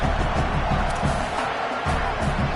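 Football stadium crowd in a game against Alabama, roaring steadily and loudly throughout as the field goal unit comes on, a dense wash of cheering and yelling with no clear pauses.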